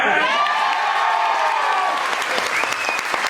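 Loud, dense applause and excited cheering fill a meeting hall as an audience celebrates good news from a sales training gathering, with shouts and whoops rising over the steady clapping throughout.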